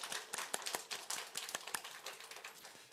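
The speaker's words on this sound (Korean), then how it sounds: "우리 그 예수님께 박수로 영광 돌립니다" A church congregation claps in a quick, uneven patter that runs steadily throughout, moderately distant and without voices, during a Sunday worship service.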